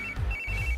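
A phone rings in a scene from a 2022 South Indian action movie, a bright electronic ringtone in two short repeating bursts over a low background rumble, with no talk.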